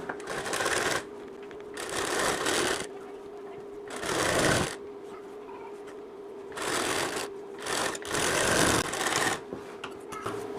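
A sewing machine stitches the back piece of a bridal prince-cut blouse in several short bursts of rapid whirring, separated by pauses with faint handling noise.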